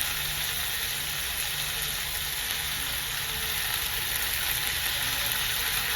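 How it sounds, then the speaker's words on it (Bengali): Soaked rice fries in a pan for veg pulao, giving a steady, even sizzle that hisses without a break from start to finish. No one speaks. "আমি চালটা দিয়ে খুব সুন্দর করে ফ্রাই করে নিয়েছি জিনিসটাকে।"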